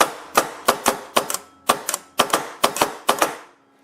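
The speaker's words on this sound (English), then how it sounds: "It fires all the time, whether you want it to or not." AGD Automag RT paintball marker with an X valve, firing uncontrollably on pull and release: sharp close pneumatic shots in irregular pairs and quick bursts, about fifteen in all, with no talk.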